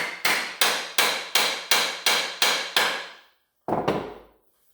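An axe head is hammered back onto its wooden handle while fitting an axe for reenacting: eight quick, evenly spaced ringing blows, a short pause, then one final strike, all close and loud.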